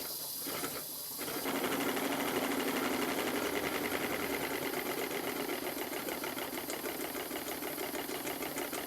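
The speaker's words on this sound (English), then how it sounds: "It seems to run very well indeed on steam." A model steam engine running on live steam, starting up after a brief pause into a fast, even mechanical chatter of rapid rhythmic beats, close and steady, with no voices.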